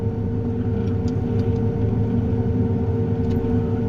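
Tractor with a crop sprayer driving through tall wheat at night while applying herbicide, a loud steady low engine drone and rumble with constant mechanical hum, no talking.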